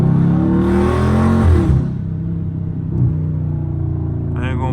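A Dodge Scat Pack's engine revs through a light pull at night, a loud, rising rumble that peaks around the midpoint, then drops back to a steady idle-like growth with a brief blip.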